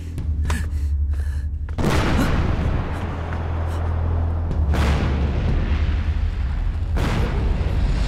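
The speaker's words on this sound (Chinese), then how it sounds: "爆炸声像是从提刑暗查室自传出来的" A thunderbolt bomb explodes in a Chinese period drama, a sudden loud boom that breaks over a low steady hum and is followed by rumbling debris and further sharp blasts over several seconds.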